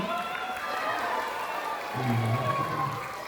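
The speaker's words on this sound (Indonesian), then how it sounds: "Tepuk tangan dong" Schoolchildren clapping together at an Islamic outreach visit in an elementary school, a dense continuous patter of many hands, fairly close, with voices and cheering rising midway.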